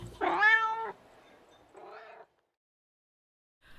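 A cat meows twice, a long loud close meow followed by a shorter softer one, then near silence.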